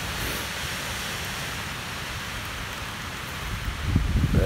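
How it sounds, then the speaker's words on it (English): Rain falls steadily at night during a storm with gale-force winds, a dense, even hiss that holds throughout, with a low rumbling gust or thud swelling near the end. "It's raining."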